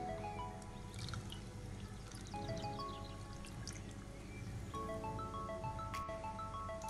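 Water is poured into a mustard chicken marinade, a faint, continuous trickle and drip with rising gurgling tones, heard alone and quiet.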